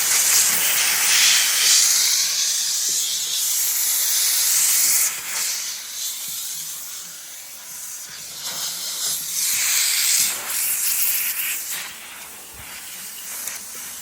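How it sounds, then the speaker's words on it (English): A handheld steamer purges during interior restoration work on a 1966 Chevy Impala, giving off a loud, continuous hiss of spraying steam that rises and dips in strength over several seconds, with no voices. "We're gonna purge the steamer and then just come right on into it."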